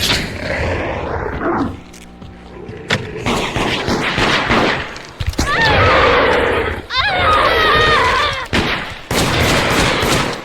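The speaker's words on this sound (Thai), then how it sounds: "โอ้ยเฮียใครเล่นปืนพกวะโหดจังวะ" Pistol gunfire in the multiplayer horror game Deceit: sharp shots crack repeatedly over game noise while several people talk and shout excitedly.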